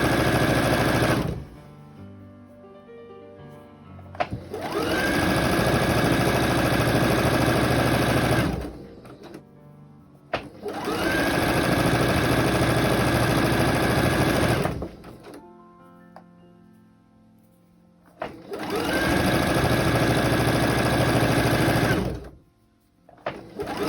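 Sewing machine stitching a curved dress seam, running in three long steady whirring bursts of several seconds each, close and loud, with short quiet pauses and small clicks between runs.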